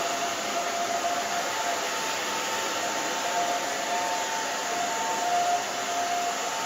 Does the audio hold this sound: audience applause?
no